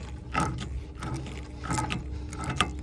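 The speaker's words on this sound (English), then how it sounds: "I'm going to use my wrench at the very end of the nipple" A wrench works on a copper pipe fitting nipple held in a vise, giving a few close ratcheting clicks and metallic turns in short bursts.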